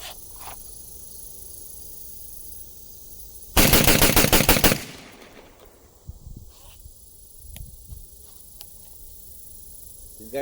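A Beretta 1301 tactical shotgun fires a fast burst of loud, closely spaced shots lasting about a second. Its echo decays into an outdoor range, and a few faint clicks and handling knocks follow.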